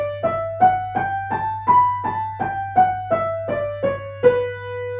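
The B natural minor scale is played up and back down as eleven evenly spaced, separately struck notes with a steady low hum beneath.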